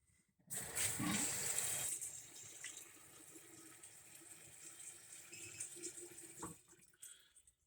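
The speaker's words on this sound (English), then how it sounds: "just going to cover the lentils with water" Water pours from a tap into a sprouting jar of lentils, a steady splashing stream that starts abruptly, runs loud and close for several seconds, then eases off and stops, with a faint drip at the end.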